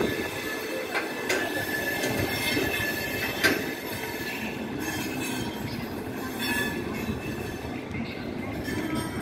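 The Mumbai Tejas Rajdhani Express arrives at New Delhi station, a steady rumble of rolling railcars with high-pitched wheel squeals and sharp clanks from the track, heard close by with no talk.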